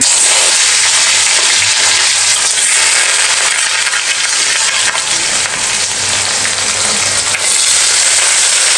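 Potatoes, onions and chilies fry in a very hot kadai, giving off a loud, steady crackling sizzle that continues without a break and with no talking over it.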